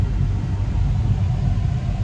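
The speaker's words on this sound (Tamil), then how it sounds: "வண்டி ஓட்டிகிட்ருக்கேன், சாரி வண்டி ஓட்டிகிட்ருக்கேன்" Steady, continuous rumble of a vehicle driving along a road in Chennai, a low droning engine and road noise with no speech.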